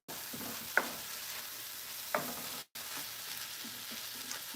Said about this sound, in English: So I'm sauteing it.